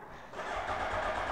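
A motorcycle engine starts up and settles into a steady, close idle rumble after a brief quieter moment.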